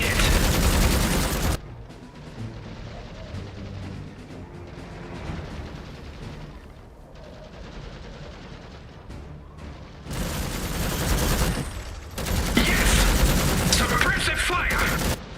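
Suppressive gunfire in the real-time strategy game Iron Harvest, with loud bursts of rattling fire and booms that start and stop between quieter battlefield stretches with voices.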